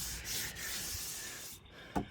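Steady abrasive rubbing of sandpaper on body filler on a car, a continuous rasping back-and-forth close by, ending with a short sharp scrape.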